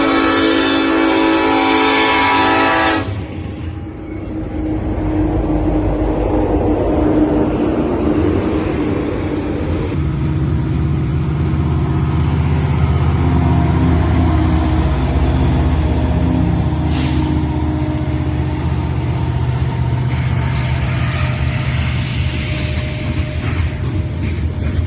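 A CN freight train, M560, passes with its horn blaring loudly at the start before giving way to a heavy, continuous rumble and clatter of rolling wagons that lasts to the end.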